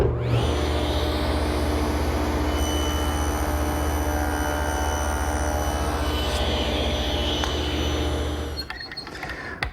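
A table saw runs steadily at full speed, cutting the angled end of a chair armrest with the miter gauge set to 10 degrees, a loud continuous whine that holds level and then winds down near the end.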